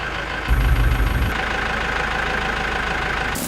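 A tractor engine idles steadily at close range while harvested rice is loaded, a brief heavier rumble rising near the start before the even mechanical drone continues.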